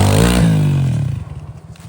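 A motocross motorcycle on an abandoned dirt track revs hard up close as the rider tries a jump, then drops to a lumpy, sputtering idle.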